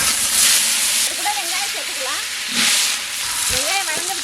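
Mustard seeds and curry leaves frying in hot oil, a loud close hiss and crackle that surges in bursts, with occasional sharp pops, while someone talks over it.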